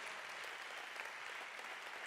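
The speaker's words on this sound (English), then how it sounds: "Let's give a big applause to us that we're here" A lecture audience in Turin gives a sustained round of applause, an even, faint and distant patter of many hands with no voices over it.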